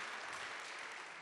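Audience applause at a lecture on the Vietnam War, a steady, even wash of clapping held at a faint level for about a second.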